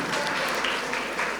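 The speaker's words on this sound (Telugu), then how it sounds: "please give a big round of applause అండి" Audience applause for the Eagle team at a public interaction event, steady dense clapping sustained throughout the short moment with no talk over it.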